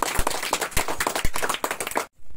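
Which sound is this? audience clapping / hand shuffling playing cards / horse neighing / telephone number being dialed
audience clapping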